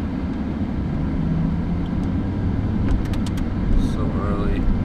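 Car driving on the road on an early-morning commute, a steady low engine and road rumble filling the whole stretch at close range, with faint voices now and then.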